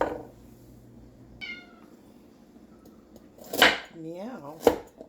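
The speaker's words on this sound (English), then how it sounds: "I've got a talking kitty here that wants my attention." A cat meows for attention in a home kitchen, with one brief cry early and two louder, drawn-out meows near the end over low background noise.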